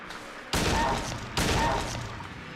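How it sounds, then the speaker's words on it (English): Two loud pistol shots ring out in Silent Hill 2 Enhanced Edition, each a sharp blast with a long decaying echo, spaced under a second apart and close up, with no talking over them. "I forgot to switch to my pistol."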